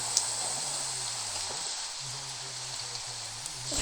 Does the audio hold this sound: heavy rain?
yes